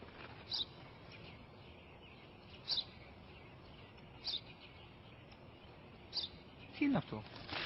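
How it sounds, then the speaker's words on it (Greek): A sparrow chirps faintly in short, evenly spaced single notes, four or five sharp calls against a quiet background, with a brief voice near the end. "Ένα σπουργίτη είναι, πατέρα."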